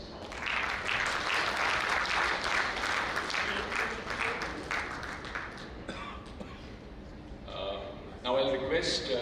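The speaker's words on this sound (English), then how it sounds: "A round of applause" Audience applause at an architects' institute chapter event as guests are invited on stage, broad sustained clapping that thins out toward the end, with voices faintly audible under it.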